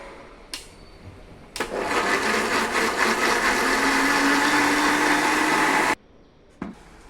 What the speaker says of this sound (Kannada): ಮಿಕ್ಸಿಗೆ ಹಾಕೊಂಡಿರೋ ಟೊಮೊಟೊನ ಗ್ರೈಂಡ್ ಮಾಡ್ಕೊಡ್ತೀವಿ